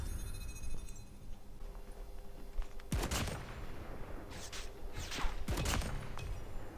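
XPR-50 rifle gunfire in Call of Duty Mobile, two sharp loud shot bursts around three and five seconds against steady game ambience, no talking.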